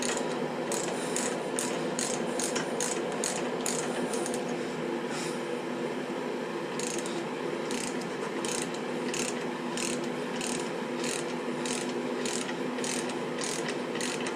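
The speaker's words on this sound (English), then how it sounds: "I'm going to jack the bike up a little bit more." A jack lifts a Harley-Davidson Iron 1200 Sportster during a fork spring install, giving a steady run of quick ratcheting clicks over a constant mechanical hum, close and fairly loud, with no talking throughout.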